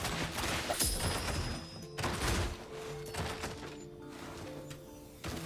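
Slumber Realm game audio carries a burst of blasts and heavy thuds, several sharp hits spread over a few seconds with rumbling decay between them, fairly close and moderately loud.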